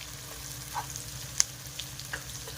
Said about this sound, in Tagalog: Nigutang na ninyo sa butter ha, sa inyong fan.